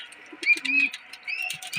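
Bulbuls call from a java plum tree where they are feeding on ripe fruit: a few short, bright chirps and whistled notes, moderately close, separated by brief pauses.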